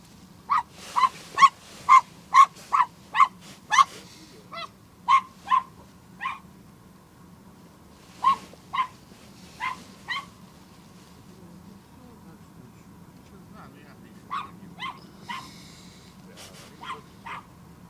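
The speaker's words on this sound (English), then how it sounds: "It's always the small dogs that are the loudest." Near the Westerschelde waterway in the Netherlands, a small dog barks in a quick run of sharp yaps, pauses, then resumes with scattered barks over a low constant hum.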